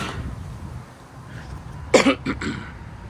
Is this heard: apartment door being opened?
no